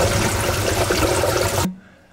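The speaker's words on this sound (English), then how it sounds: "We have the sound of water bubbling." Dense, close churning and bubbling of water inside a DIY aquarium sump handling 1300 gallons, loud and constant before breaking off abruptly.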